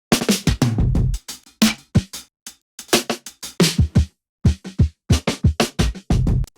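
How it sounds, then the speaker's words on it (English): Punchy drum hits in a choppy, syncopated pattern, sharp snare-like cracks and low thumps separated by brief silences. "The next bit that comes in is the drums"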